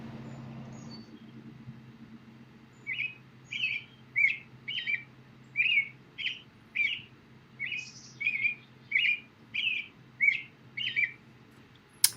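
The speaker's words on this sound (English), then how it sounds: "I will show you a short video of the robin and listen to its sound" A robin sings a string of about fourteen short, bright, twittering phrases, evenly spaced and clear, over a faint low hum of distant traffic.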